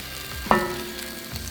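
A tomahawk steak sears in oil on a grill, giving a steady soft sizzle with a brief louder crackle as the meat shifts, fairly close and with no talking.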